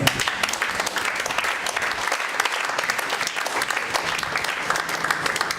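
A church congregation breaks into loud, sustained applause during a French sermon, dense clapping filling the room with scattered cheers mixed in.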